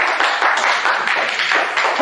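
Classroom applause for a student group that just presented, a steady bright wash of many hands clapping throughout, fairly close and uninterrupted.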